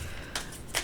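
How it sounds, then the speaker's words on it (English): A tarot deck with holographic foil cards being shuffled, giving two quick crisp riffling bursts over a faint background hiss. "we're gonna shuffle these a bit."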